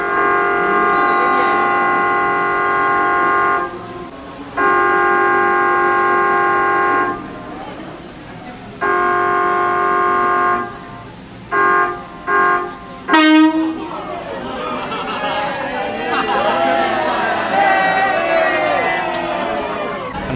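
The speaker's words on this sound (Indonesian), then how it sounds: "itu dia klakson elektriknya guys. Jadi klakson elektrik itu merupakan klakson asli dari Jepang" An old KRL Jalita electric train in Jakarta sounds its original Japanese electric horn, loud sustained tonal blasts repeating in several long and short bursts, then a sharp click and people talking.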